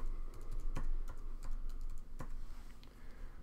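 Someone types a password on a computer keyboard to log into a data system, producing a quick, close series of light key taps with a couple of sharper clacks over steady room hum and no talking.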